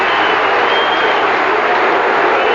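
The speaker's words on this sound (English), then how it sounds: "this crowd just so excited" A large, excited crowd at the 1993 Adelaide versus Collingwood AFL football match gives a steady, loud, unbroken roar of cheering and shouting that fills the whole moment.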